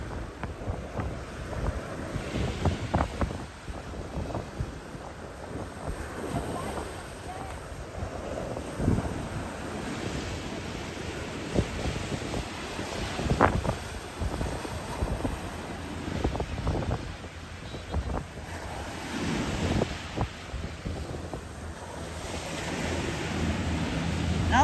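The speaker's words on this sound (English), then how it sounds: "The wind is getting really strong." Strong, gusty wind buffets the microphone on a Florida beach in Hollywood, with surf washing in the background; the rough roar swells and dips continuously throughout, close and fairly loud, with no talking.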